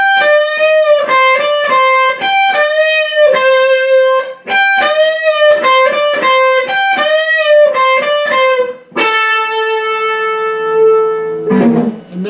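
An overdriven electric guitar plays a lead, a quick run of choppy bent notes and repeated phrases ending on a long sustained note, loud and alone.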